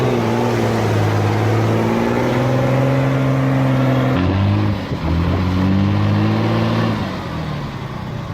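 A heavy W50 truck engine roars loudly at steady high revs on a muddy Polish off-road course, its pitch dipping briefly as the load shifts, then climbing again and holding.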